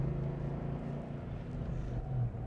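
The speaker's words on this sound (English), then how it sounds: "listen to that exhaust" A 1995 Ford Mustang Cobra idles with a deep, steady engine rumble, low and throaty like a muscle car exhaust, with a slight swell near the end.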